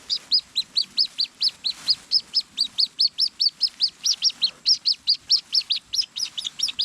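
A barred rail in a rice field gives a rapid, steady series of sharp, high-pitched calls, about three to four per second, close and clear over quiet background.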